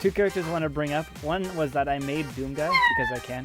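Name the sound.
cat meowing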